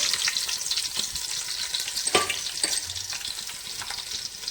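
Garlic and ginger sizzle steadily in hot oil for sambar, a bright continuous frying hiss with a few stirring clinks, close and alone.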